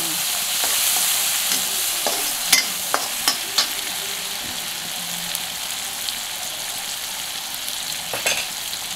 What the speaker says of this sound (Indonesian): Tumis sampai keluar ke bau.